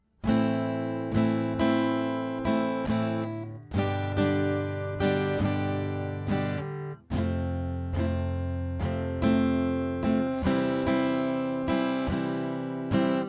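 Strummed guitar chords in a steady offbeat eighth-note pattern, clear and close, playing alone with brief pauses between phrases.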